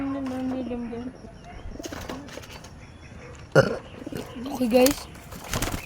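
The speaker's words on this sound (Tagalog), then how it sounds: "Kalapate." Pigeons coo close by in short guttural bursts between moments of quiet handling noise. A person speaks briefly over them.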